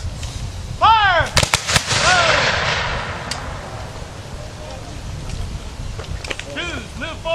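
Union infantry reenactors at a Battle of the Crater demonstration fire a musket volley, a loud ragged crash of near-simultaneous shots with a long rolling echo, followed by scattered later shots; shouted commands are heard around it.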